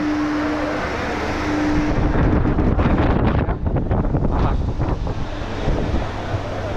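A steady rush of air from an air conditioner at a large bus terminal in Tiruchirappalli, India, roars close by, swelling briefly louder in the middle, with no speech.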